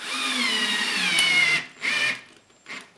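A power drill drives screws into a ceiling panel during mobile home ceiling repair, a long high whine that drops in pitch as the screw seats, followed by two shorter bursts, close and loud.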